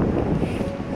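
Strong wind buffets the microphone at Blackpool in a loud, continuous low roar with no talk over it.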